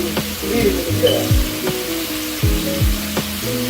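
Shrimp frying in a pan for curry coconut shrimp, a steady loud sizzle with occasional stirring scrapes and utensil knocks, close up and without talk.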